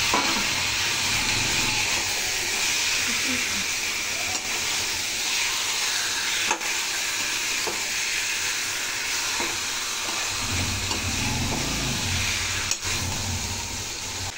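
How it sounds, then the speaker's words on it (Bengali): Chicken biryani meat poured into spice masala and stirred, with a continuous close sizzle and hiss, scraping stir strokes and a few sharp clicks, all without voices. "মাংসটা এবার ঢেলে দিলাম মশলার মধ্যে"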